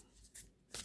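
A deck of tarot cards is shuffled in a couple of soft, quick riffling bursts, close but quiet, with no talking.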